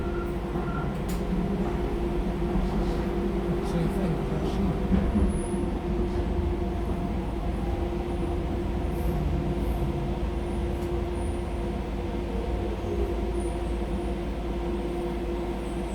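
Train ride through London's Docklands: a steady low rumble of the moving carriage with a constant hum, faint rattles and a few brief high squeaks, no talking.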